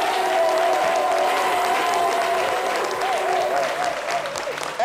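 A studio audience applauds, dense sustained clapping from a crowd for a few seconds.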